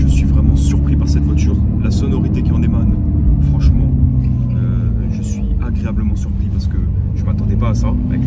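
A Mercedes-AMG GT Black Series with a flat-plane crank V8 rumbles loudly and steadily from close by, its deep engine drone rising slightly in pitch, with someone talking over it.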